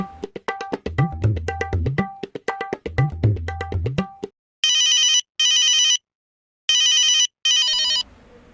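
A phone rings at home over a melodic ringtone, first a looping tune, then a bright electronic trill in four sharp bursts separated by short silences, loud and close.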